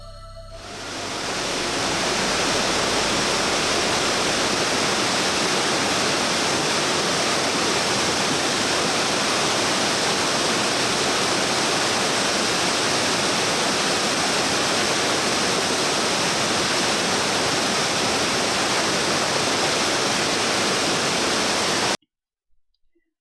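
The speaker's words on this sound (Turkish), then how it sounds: "Üst birinci basamakta 10 metreye yakın bir yükseklikten uçarak aşağı inen su, şelale tabanında muhteşem güzellikte doğal bir havuz oluşturmuştur." A waterfall dropping about 10 metres into a natural pool at the upper first tier of Etler Waterfall in Serik, a loud, steady broadband roar that holds evenly for over twenty seconds before cutting off.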